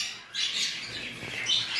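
Budgerigars, including lutino budgies, chirp and squawk at a bird market in short, high, fairly close bursts, with one call near the start and another near the end.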